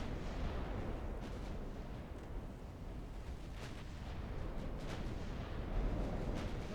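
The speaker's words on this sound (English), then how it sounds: "these 60-inch guns are doing a number on the light ships" Sixty-inch battleship guns fire on a Montana-class battleship in the naval game Ultimate Admiral Dreadnoughts. They make faint, low, rolling booms and rumble that blur into a continuous distant roar, with no speech.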